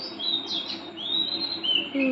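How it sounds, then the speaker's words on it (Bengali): Morning birdsong outdoors in Kolkata, with several bright chirps and whistled phrases repeating over a soft steady background hiss, close and clear, without talk. "পাখির গানটা ভালো লাগতেছে"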